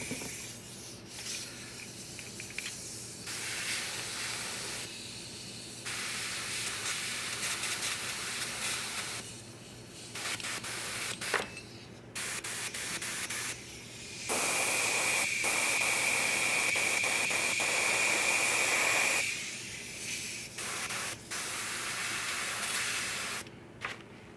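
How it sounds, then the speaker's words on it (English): An airbrush sprays acrylic paint, producing a steady close hiss that comes and goes in bursts and grows louder and brighter for several seconds near the middle, with no talking. "I don't have this problem with the airbrush when I use solvent paints."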